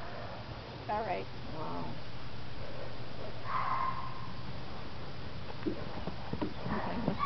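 A horse canters on the ground, its hoofbeats and snorts sounding mid-distance beneath voices talking nearby, with a steady low background rumble throughout.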